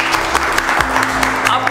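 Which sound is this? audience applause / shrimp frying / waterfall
audience applause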